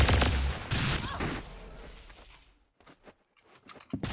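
Gunfire in the Roblox game Arsenal, a dense burst of shots up front that fades into scattered, quieter pops.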